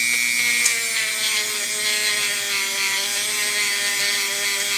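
A power tool polishes a metal surface during metal fabrication, giving a steady high-pitched whine with a continuous rubbing hiss, loud and close throughout.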